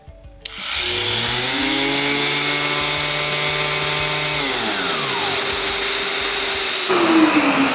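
A Festool ETS 125 random orbital sander spins up sharply, runs with a steady whine, then winds down with falling tones as it coasts to a stop, close and loud with no talking.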